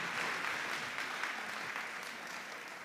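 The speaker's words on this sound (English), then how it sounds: "Please give them a round of applause." Audience applause for school quiz finalists at a competition, a steady wash of many hands clapping at moderate volume, slowly easing toward the end.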